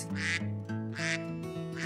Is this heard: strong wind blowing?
no